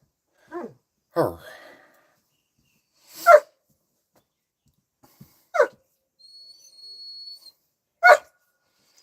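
Several dogs bark in short, separate bursts spaced a few seconds apart, some yelps rising into whines, with quiet gaps between them.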